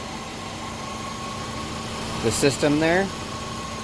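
A warmed-up 2003 Subaru Forester engine idles steadily with a constant low hum and faint tonal drone, while someone talks briefly over it near the end.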